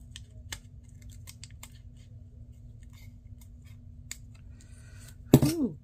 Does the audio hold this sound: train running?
no